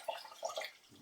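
Two cups of water poured into a blender holding half a cup of whole raw almonds for horchata: a quiet, short run of splashing and trickling with a few drip-like bursts, no voices.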